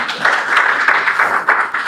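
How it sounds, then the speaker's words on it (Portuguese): An indoor audience at a financial freedom course claps together in a steady, fairly loud rhythm, with distinct beats roughly every third of a second over a brief stretch. "Uma salva de palmas para Jesus, para a vida do casal."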